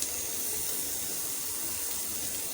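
Onion and dried chillies sizzle in hot oil, a steady dense hiss of frying with no pauses, close and fairly loud throughout, with no voices.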